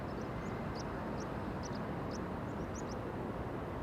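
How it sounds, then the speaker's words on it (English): An ETA Airbus A220 at Amsterdam Schiphol airport, a steady broadband engine roar heard from a distance, continuous and even, with faint chirps of birds above it. "Beautiful A220 in a beautiful livery that is ETA's."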